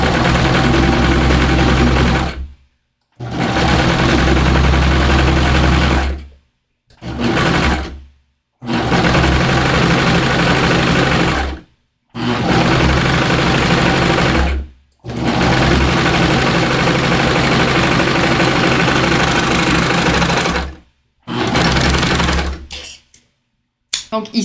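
A Babylock Vibrant overlocker stitches a lettuce rolled hem, running in loud, fast, whirring bursts of a few seconds each, separated by short pauses where the machine stops.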